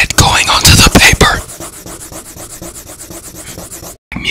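Graphite pencil lead drags over paper up close, starting with several loud, rough scribbling strokes before settling into lighter, evenly repeated scratches, then a short silence and a final stroke.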